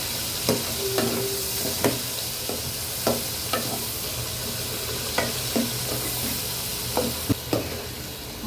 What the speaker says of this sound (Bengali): মানে পেঁয়াজটা ভাজা ভাজা হবে,